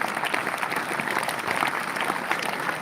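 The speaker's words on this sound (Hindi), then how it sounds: "ताली बजाओ इस लड़के के लिए" An audience at a spiritual satsang gathering claps in steady, moderately loud applause for a short burst, with no voices over it.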